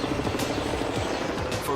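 A chartered helicopter thumps steadily overhead above the Swedish countryside near Heby, its rotor chop loud and continuous with a constant engine whine.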